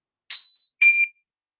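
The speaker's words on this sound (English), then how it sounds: "These are the smallest hand chimes we've got." Two small handbell-style chimes from a handbell ringers' group ring one after another, each a bright, clear metallic ding that rings briefly and fades, heard alone.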